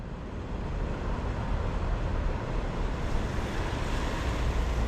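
Floodwater from a storm-swollen river surges against a bridge in a constant, dense roar, with broadband rushing and wind buffeting the microphone throughout and no talk.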